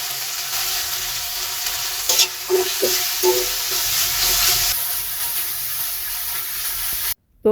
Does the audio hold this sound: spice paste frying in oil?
yes